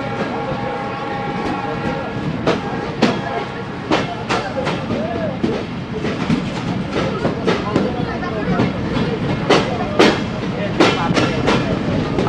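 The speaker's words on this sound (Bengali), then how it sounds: "আমাদের ট্রেন ইতিমধ্যে ডিপার্চার করছে যশোর জাংশন রেলওয়ে স্টেশন" The Mongla Commuter train pulls out of Jessore Junction station with loud rumbling and repeated clanks of wheels over joints, a horn sounding among them, heard close from onboard with people talking in the background.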